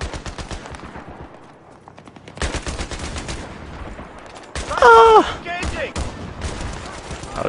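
A mounted machine gun fires in Battlefield 3, sounding as rapid rattling bursts of gunfire with short pauses between them. A voice talks over part of the shooting.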